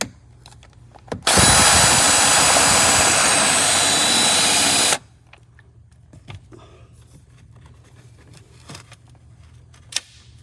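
A power tool working a stubborn bolt loose on a 1975 Chevrolet Corvette during wiring harness removal, one loud steady high whir of about four seconds, then quiet shop sounds with small clinks.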